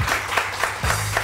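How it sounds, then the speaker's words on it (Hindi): Studio audience applause on a Pakistani morning TV show, a dense steady patter of many hands clapping for about a second, with a brief musical chime underneath. "तालियां जी, तालियां, बहुत सारी तालियां, बहुत सारी तालियां।"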